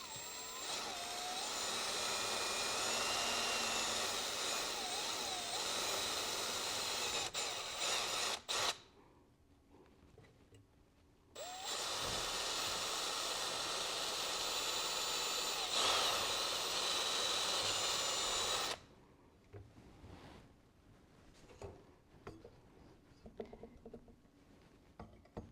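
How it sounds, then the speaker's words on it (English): A power drill bores into a knife handle during a restoration, running in two long, steady loud bursts separated by a quiet pause, then stopping, with a few faint clicks and handling noises afterward. "I'm gonna drill it"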